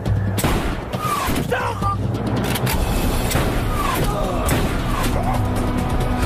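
Gunfire in an action film, a rapid volley of loud close shots and bangs over rumbling vehicle noise, with voices calling out briefly.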